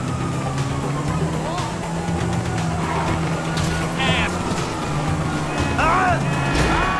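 Engine and traffic noise in GTA V, a steady vehicle drone with tonal hum and passing whines, overlaid by chirpy sound effects and a voice speaking briefly.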